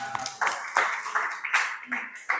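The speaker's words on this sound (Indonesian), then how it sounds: "Tepuk tangan." A small group claps in a short, uneven round after a classroom group presentation, with sparse individual claps giving a thin, close-up patter.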